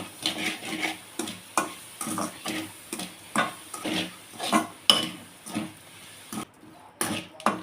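Sugar stirred into a carrot mixture for carrot burfi in a pan, with a regular series of spoon scrapes and stirring strokes over a soft sizzle, all fairly close.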